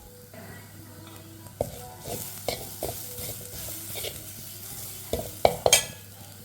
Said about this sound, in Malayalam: തേങ്ങ ഇട്ട് ഞാനൊന്ന് ചെറുതായിട്ട് മൂപ്പിച്ചെടുക്കുവാണേ